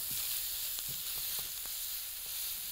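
Onion frying and starting to caramelize in a pan for Turkish eggplant kofta: a steady, close sizzling hiss with a few faint ticks and pops, and no talking.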